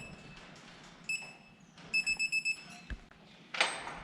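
Planter monitor alarm beeping in a run of five short, evenly spaced beeps, with a couple of scattered single beeps before and a brief louder chirp after, set against a quiet background.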